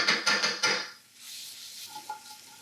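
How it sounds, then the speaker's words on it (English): Garlic sizzling in a pan for chilli chicken, with a few utensil clatters and scrapes against the pan early on, then a softer, steady hiss of frying. "And you see it's just frying nicely."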